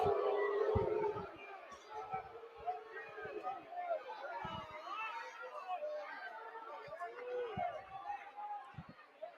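Ole Miss baseball crowd in the stands voicing displeasure at an umpire's call, a sustained murmur of chatter and jeers swelling under a play-by-play announcer's voice, with occasional thumps in the background.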